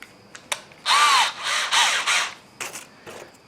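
A drill bores a hole in a wooden toy train, with a short whirring burst followed by a second shorter one and a few light knocks and clicks around them, close up.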